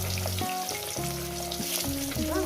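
Fish pieces frying in hot oil for a Bengali fish curry, a close continuous sizzle with rhythmic low thumps and scrapes from the pan, no voices.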